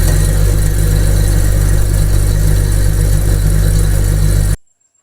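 A motor-driven ceiling fan coil winding machine runs with a steady, loud mechanical hum and constant low drone, then cuts off abruptly into silence near the end.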